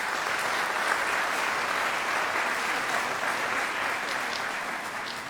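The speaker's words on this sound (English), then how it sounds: "Let's give our graduates a round of applause" Sustained applause from a civic audience at a State of the City event in Orange, honoring the Leadership Orange graduates, steady and dense throughout before tapering slightly at the end.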